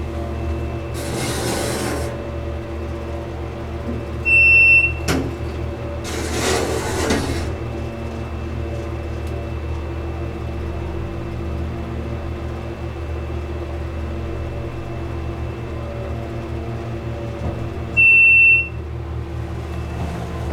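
Steady low hum and drone of an antique GAL hydraulic elevator motor at the Rice University student center in Houston, running continuously at close range, with a couple of brief noise bursts and short high beeps partway through.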